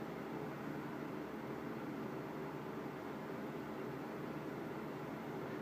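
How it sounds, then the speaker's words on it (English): A room fan runs with an air conditioner in an Arizona home, giving a steady broadband whoosh and low hum that stays even and unbroken throughout, with no talking. "the noise you hear in the background is my fan"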